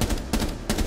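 Gunfire in Rainbow Six Siege, a headshot shot in the tactical shooter: three sharp, loud gunshots spaced evenly about a third of a second apart, close and punchy with no talk over them.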